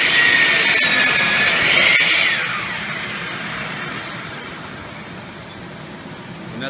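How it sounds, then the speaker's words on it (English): A BFH miter saw cutting wood, its blade whining loudly and biting through the board before spinning down and fading. "hold the wood firmly against the back rail, press in with the thumb, and then engage the blade."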